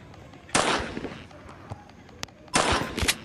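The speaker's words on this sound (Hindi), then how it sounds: "मैं पहले एक बार यहाँ पे मार देता हूँ ग्रैनी को" Gunfire in the Granny Chapter 2 video game as Granny is shot: two loud blasts about two seconds apart, each with a short roaring tail, over faint background game sounds.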